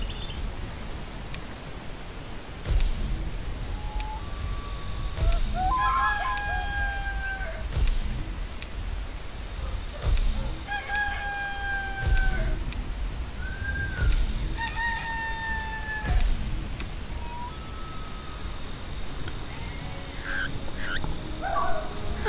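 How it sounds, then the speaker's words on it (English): Rooster in the video game Black & White 2 crowing several times in a row, each long, drawn-out call repeating at intervals of a few seconds over a steady ambient background with faint chirping. "Roosters always crow when the sun comes up."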